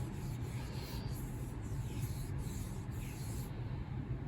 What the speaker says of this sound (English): I'm just gonna give this a little rub with my hand and see what that does.